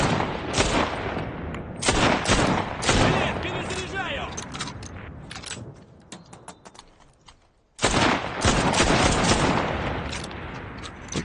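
Sniper rifle fire in the video game Enlisted, rapid loud gunshots and bursts of battle fire cracking close, a quieter lull, then heavy shooting resumes, with a player speaking intermittently.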